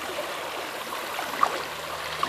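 A creek swollen by 4.5 inches of rain runs strongly, a steady broadband rush and gurgle of flowing water up close, with a couple of faint clicks and no talking.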